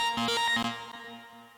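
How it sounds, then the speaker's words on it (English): Synth riser from Cakewalk by Bandlab run through an ambience plugin, mostly dry with a touch of reverb, playing a few quick stuttering pulses before fading into a soft lingering tail. "So I used an ambience plugin"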